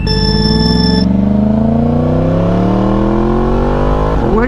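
A Yamaha R1M sport bike with R1M headers accelerates hard on the road, its loud engine pitch climbing steadily through a long pull after an early shift, close and without talk.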